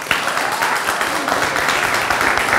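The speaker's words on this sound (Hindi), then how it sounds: "सबसे पहले तो जोरदार तालियों के साथ शुरुआत करते हैं।" Audience applause at a TV talk show interview, a steady dense wash of clapping sustained evenly throughout, close and loud.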